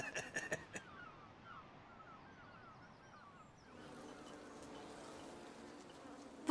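Bees buzz in a low, continuous drone that wavers in pitch, fairly faint, with a few soft knocks at the start and a fuller hum toward the end.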